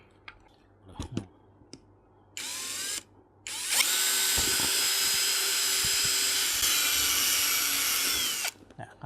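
Power drill boring a center hole in a part for a homemade fishing rod coating motor stand, with a brief whir, a pause, then a long steady high-pitched whine that stops sharply, with small clicks and handling noises around it.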